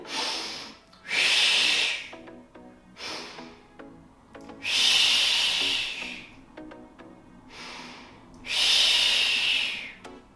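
Three slow cycles of deep breathing during a postpartum push-up exercise: each long, airy exhale is loud and close, separated by quieter pauses and softer inhales.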